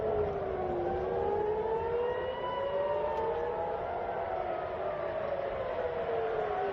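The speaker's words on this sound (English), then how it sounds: "Hear all those sirens?" Air raid sirens wail during a rocket attack in Israel at night, several civil defense sirens rising and falling and overlapping at distance, loud and continuous with no speech.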